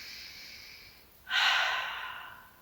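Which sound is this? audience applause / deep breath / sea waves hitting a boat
deep breath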